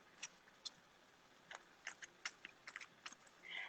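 Tarot cards being shuffled give off faint, crisp little clicks and riffles in irregular bursts against quiet room hiss, ending in a slightly longer rustle.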